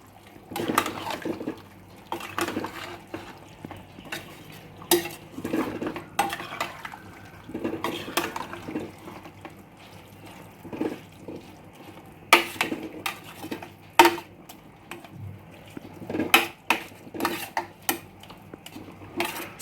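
A spoon stirs vegetable biryani in a metal pressure cooker after salt goes in, giving irregular scraping and clinking strokes against the pot, close and moderately loud, with no talking.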